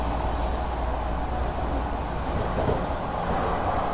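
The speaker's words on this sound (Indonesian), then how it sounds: "Jadi itu lagi ada di dalam kereta, dan keretanya pada kosong semua." A continuous low rumble and rushing noise inside a moving, empty train in Japan, steady and even throughout with no talking.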